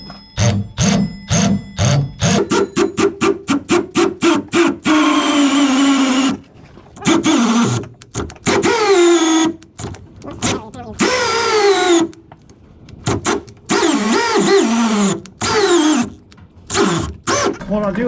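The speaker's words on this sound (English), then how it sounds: "we're going to get started drilling this out" Power drill driving a kit-supplied bit through a hole, starting with a rapid series of short trigger bursts and then running in longer whirring stretches separated by brief pauses, close by.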